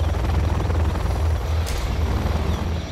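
Helicopter in Command & Conquer Generals Zero Hour, loud whirring rotor chop with a pulsing low throb that holds steady throughout, no voices.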